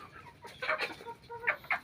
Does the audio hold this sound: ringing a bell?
no